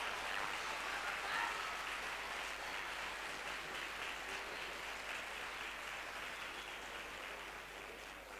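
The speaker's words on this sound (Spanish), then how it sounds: "¡Aplauso fuerte!" Clapping from an audience at a children's carnival contest, a sustained wash of applause that stays fairly steady for several seconds before easing off slightly, with no talking on top.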